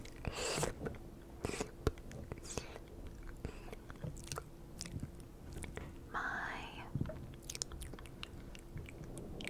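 Gum chewing up close in a quiet room: soft, moist, irregular smacks and crunchy bites repeating under a whispering voice.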